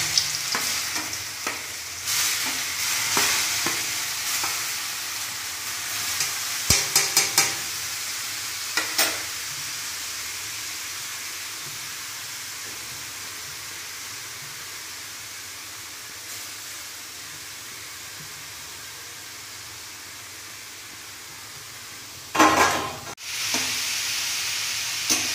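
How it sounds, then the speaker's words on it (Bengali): Boiled papaya pieces fry in ghee over a full gas flame, a continuous hissing sizzle with scattered spoon scrapes early on and a brief burst of stirring near the end. "গ্যাসের ফুল ফ্লেমে ভালো করে সিদ্ধ করা পেঁপেগুলো গাওয়া দিয়ে ভেজে নিচ্ছি।"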